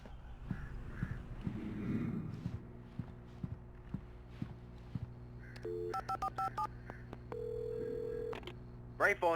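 A gas station payphone in the game Alan Wake: scattered footsteps and knocks, then a rapid string of touch-tone dialing beeps followed by a steady tone and a final pair of tones, all fairly quiet.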